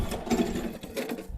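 Old gas-powered pull-behind brush mower motor sputtering and stumbling as it struggles to stay running, a close, uneven mechanical chatter with surging and dipping pulses over about a second and a half.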